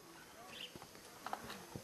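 Horse hooves clip-clop in a few sharp, uneven knocks on a rural road in Paraná, Brazil, close by and moderately loud, with a little background chatter.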